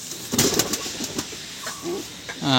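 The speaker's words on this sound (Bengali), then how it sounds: "সাহারানপুরি নাপ্তা পায়রা" A female Saharanpuri Napta pigeon gives low, soft coos in a few short bursts, close by, with a quick rising call near the end.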